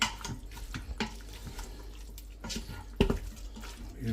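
Water trickles lightly into an Instant Pot holding mutton curry, a soft, steady wash of pouring close by with one small knock partway through.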